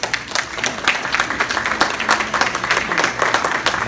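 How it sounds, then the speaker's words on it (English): Loud audience applause during a business Q&A session at a fitness convention, dense overlapping claps from a large crowd sustained at close range for the full few seconds. "A round of applause."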